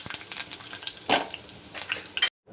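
Chopped green chili and curry leaves tempering in hot oil for a cucumber kairas, a soft continuous sizzle with a louder crackling burst in the middle and another near the end before it cuts off.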